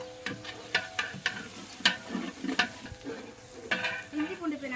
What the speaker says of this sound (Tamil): பச்சை வாசம் போகிற வரைய இஞ்சி பூண்டு பேஸ்ட்டை வதக்கிக்கலாம்.